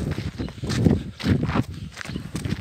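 A young stallion trots in circles during training, its hooves clip-clopping in a steady, close rhythm of repeated thuds.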